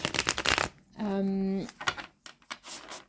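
Tarot cards being shuffled before a three-card reading, a quick riffling flutter of cards near the mic, with a French-speaking voice talking before and after and briefly humming a note in the middle.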